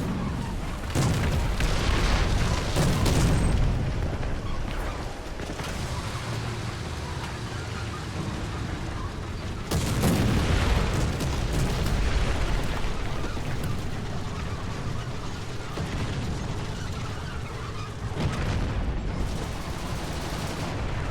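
Heavy artillery explosions from a Sherman tank in War Thunder boom in repeated waves, each blast rolling out into a long rumble. Engine noise and a narrating voice run underneath.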